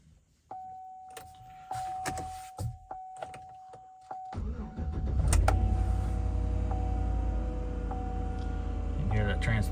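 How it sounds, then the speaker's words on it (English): A cold start of a vehicle with a GM 6L80E automatic transmission: starter cranking, a thunk, then the engine settling into a steady, loud idle with a faint whine from the transmission pump. "You can hear that transmission pump."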